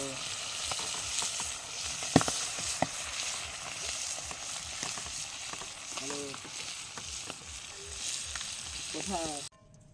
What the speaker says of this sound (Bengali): মাছটা ভালো করে ভাজা করে নেওয়া হচ্ছে।